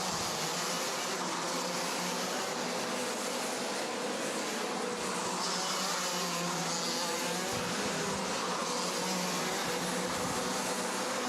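Racing karts in a WSK Champ Cup final at Lonato sweep through a chicane, a continuous broadband engine whine heard from a distance with steady intensity and no talk.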